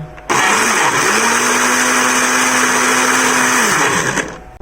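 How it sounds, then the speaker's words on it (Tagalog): A kitchen blender whirs through avocado coffee with milk, a loud steady motor hum running for about four seconds before cutting off abruptly. "Tapos blender lang natin siya."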